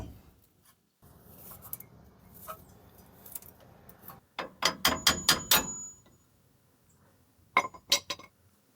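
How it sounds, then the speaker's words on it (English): A brake rotor put back in place on a 2013 Ford F-250 Super Duty, sharp metallic clinks and taps in a quick cluster midway, then a second short burst, over faint handling noise and no talk. "Let's go ahead and put our rotor back in place."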